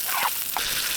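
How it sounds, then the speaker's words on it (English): Venison sears in a frying pan over an outdoor bushcraft campfire, giving off a brief, continuous sizzle with small crackling spurts. "I'm going to basically sear the venison in the frying pan, fry up a bit of onion too"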